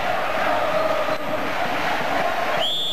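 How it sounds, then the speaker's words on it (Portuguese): Beach volleyball crowd at a 1992 world championship semifinal roars in a sustained, dense wash of cheering and shouting, loud and continuous, with a brief whistle-like tone near the end. "Ah, mas a torcida agora está no auge."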